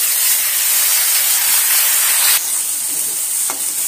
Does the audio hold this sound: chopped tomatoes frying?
yes